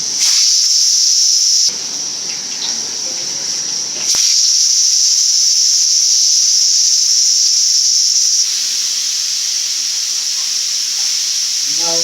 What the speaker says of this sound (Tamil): இப்போ கடுகு பொரிஞ்சிச்சு. வெந்தயம் கடுகு பொரிஞ்சிச்சு.